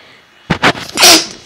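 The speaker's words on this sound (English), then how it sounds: "I'm sorry, but I just sneeze." A single close sneeze, a sharp two-part intake burst followed by a loud hissing expulsion, with no other sound around it.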